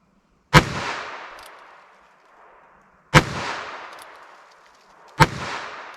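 .22 Mag or .32 Mag Critical Defense handgun rounds fired through a chronograph, three sharp, loud shots spaced a couple of seconds apart, each with a ringing decay and no talk.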